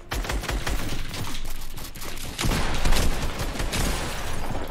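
Rapid gunfire sprayed in a competitive shooting video game tournament match, dense bursts of close automatic shots repeating without pause throughout, loud and alone.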